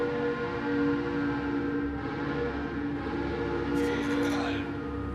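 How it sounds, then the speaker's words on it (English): High-pressure marine steam whistle of a ship in World of Warships, a long sustained tonal blast over a constant low engine drone, loud and steady for the whole stretch. "So that whistle sounds like a proper steam train whistle."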